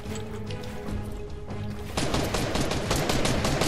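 Gunfire in a one-on-one video game match, a fast, loud rattle of shots that grows denser and harsher halfway through, continuous and up close with no talking.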